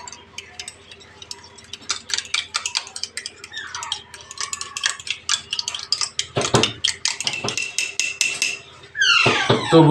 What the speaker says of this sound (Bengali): চামচ দিয়ে ভালো করে ফেটে নিয়ে